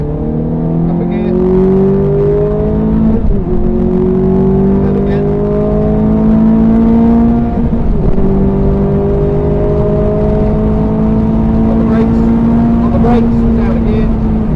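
A Ferrari F430 driven on the wet Silverstone circuit, its engine loud and close as it revs up through the range, drops on each upshift and climbs again in a steady series of pulls.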